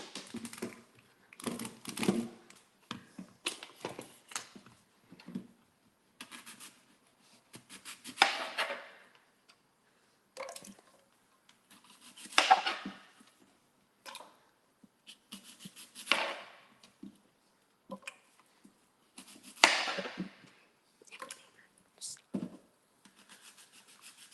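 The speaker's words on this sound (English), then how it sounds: "You cut up a few apples." Apples being cut up with a knife on a board: uneven bursts of chopping and scraping, with quiet gaps between the bursts.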